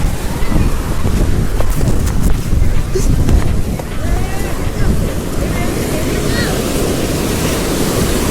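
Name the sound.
sea waves and wind at the seashore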